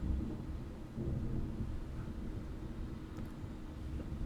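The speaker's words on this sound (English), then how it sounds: "I don't know if you guys can hear that thunder." Thunder from storms passing over Raleigh rolls as a deep, continuous low rumble, fairly loud and unbroken, with no voices over it.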